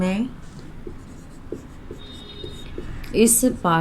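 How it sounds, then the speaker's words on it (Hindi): Writing out a question by hand, soft scratchy pen strokes in a quiet room, brief and close, with a person speaking at the start and end. "तो ये दूसरा प्रश्न हम लोग लिखेंगे।"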